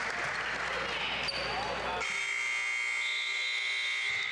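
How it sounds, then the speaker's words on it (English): A loud, sustained electronic buzzer sounds in a gym at the end of the first quarter of a girls' high school basketball game, ringing steadily over the crowd noise after a burst of court and crowd sound. "As a buzzer rings, that is the end of the first quarter."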